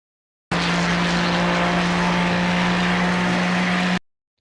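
A Ferrari GT3 race car in the iRacing simulator at Virginia International Raceway holds a steady, loud engine drone with a constant pitch for about three and a half seconds, then cuts off to silence.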